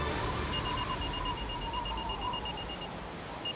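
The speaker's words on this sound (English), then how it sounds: "And that's an anchor alarm." Anchor alarm on a boat anchored in a difficult, exposed spot, sounding as a steady run of faint, evenly spaced high beeps over heavy wind and water noise.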